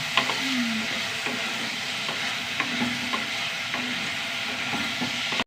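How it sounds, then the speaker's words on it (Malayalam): Brinjal sautés in a pan with a steady sizzle, broken by regular scraping taps of a spoon stirring, close and even throughout. "വഴുതിരി ഒന്ന് വഴണ്ടി വെച്ചേട്ടാ"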